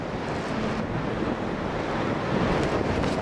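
Strong gusts of wind buffet the microphone at the crater of Nyiragongo volcano, a steady, loud rushing roar that swells slightly toward the end, with no voices.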